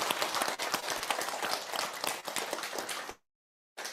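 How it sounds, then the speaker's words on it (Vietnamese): Applause from a gathered audience at a Buddhist teaching visit to an elderly ill man, a dense burst of clapping for about three seconds that stops abruptly, followed by silence and a brief return of sound. "Xin cho tràng vỗ tay cùng nhau."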